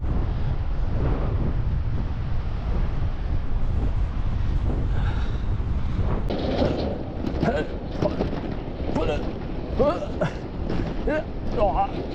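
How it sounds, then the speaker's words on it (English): Strong gusting wind buffets the microphone while cycling near the Great Wall in China, a loud continuous roar with a voice speaking over it toward the end. "Here's the wind!"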